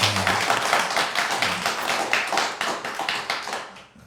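Church congregation applauding together, a dense run of rapid claps that carries on steadily for several seconds and tapers off at the end, with no talking.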